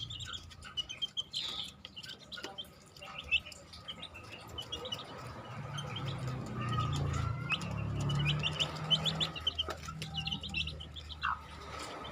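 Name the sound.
15-day-old chicks chirping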